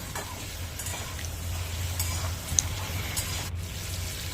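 Eggs sizzle gently in a pan while being stirred, with a faint scrape and a small clink, over a low steady hum.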